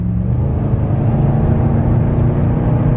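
A 2006-09 Chevy Impala SS V8 rumbles loud and close, a steady dense engine drone with a slight swell as it pulls under acceleration, no voices over it.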